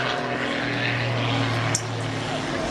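A Pitts aerobatic biplane flies at the Clacton Air Show, its propeller engine droning steadily and fairly loud throughout, with a brief sharp click near the end.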